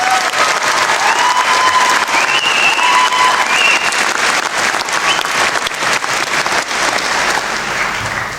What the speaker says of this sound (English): Let's give her another big round of applause, please.